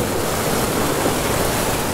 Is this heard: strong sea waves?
yes